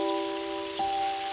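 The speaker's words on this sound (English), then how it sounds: "Saute our 豆瓣酱 to release the red oil and the fragrance" Doubanjiang chili bean paste sautés in oil over medium-low heat, making a soft, steady crackling sizzle like light rain, with a faint sustained tone running beneath it.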